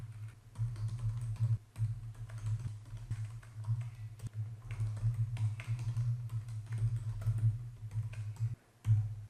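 Rapid, uneven keystrokes of someone typing code on a computer keyboard, close and steady, with brief pauses between bursts over a constant low hum.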